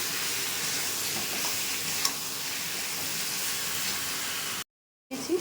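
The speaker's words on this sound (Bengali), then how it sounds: "হলুদ দিয়ে দেবো। ভালো করে এটাকে ভেজে নেব।" Spices with salt and turmeric fry in a pan for a rui fish and taro curry. A steady, moderate sizzle and hiss continue throughout, then cut to silence near the end before faint clatter returns.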